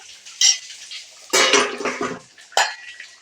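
Egg and potato stirred in a pot just after the lid is lifted: a few bright metallic clanks and scrapes of a spoon against the pot, in short bursts with quiet gaps between.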